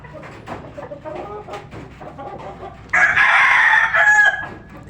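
A three-month-old hen, already laying eggs and handled up close, gives soft low clucks and scratchy murmurs, then a louder sustained call near the end that rises above the quieter clucking; no speech.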